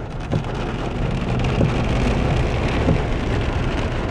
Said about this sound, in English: I think this is one of the worst storms I've ever seen in Utah.